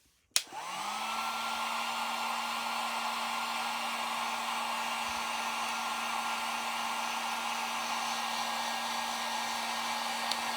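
Hot air blower heating glue on a broken Hasbro Fortnite toy, starting with a click and spin-up, then a steady, close whooshing whine with a constant tone held for about ten seconds, no talk.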